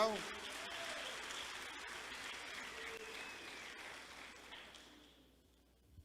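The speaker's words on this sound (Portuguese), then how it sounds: "dá um aplauso a Jesus" A church congregation claps together, quiet and somewhat distant, the applause holding steady before tapering off and fading out near the end.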